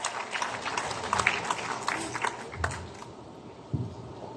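Audience applause for team leaders at a Riway team gathering, a mix of scattered claps and crowd noise that thins out toward the end, with some talk underneath.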